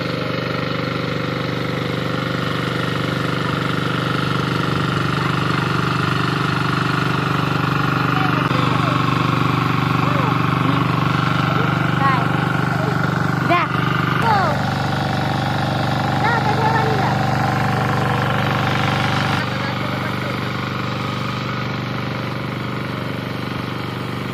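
A farm tractor engine runs continuously at a steady idle-like drone throughout, close and loud, with people talking over it.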